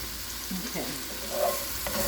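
Mushrooms softening in a pan, stirred briefly as they sauté: a steady broadband sizzle with faint scraping of the utensil, close, alone without speech.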